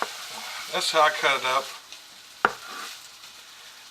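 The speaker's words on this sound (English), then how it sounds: "Sorry if you hear the sausage in the background cooking" Soft sizzling of sausage frying in a pan runs quietly beneath a person talking, with a sharp clink partway through.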